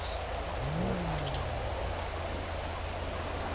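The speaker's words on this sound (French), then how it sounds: "c'est con, il pleut, mais à la fin de l'inter" Steady rain falls in GTA V with the LSPDFR mod, a continuous even hiss without pauses, with a faint siren-like tone sliding briefly underneath.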